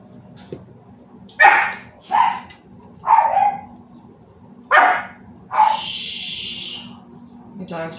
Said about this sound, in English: Dogs are barking right now.